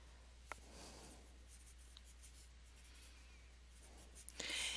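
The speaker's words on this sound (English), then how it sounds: "I'm going to write that out for you." Pen writing out a coefficient matrix, very quiet scratchy strokes with a few small taps against a faint low hum.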